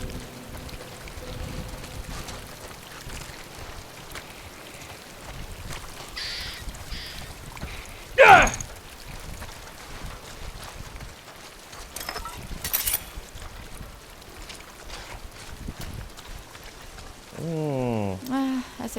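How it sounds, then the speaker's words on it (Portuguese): Heavy rain patters steadily in The Last of Us, a continuous soft wash of falling water throughout, broken by a sharp louder thump midway and a brief tonal chirp near the end. "Ih, tá chovendo muito."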